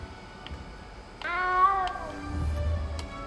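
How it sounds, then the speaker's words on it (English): A small cat in the Hogwarts Legacy video game gives one clear, drawn-out meow, fairly close and alone, with a low rumble stirring beneath it toward the end. "You don't need to be frightened,"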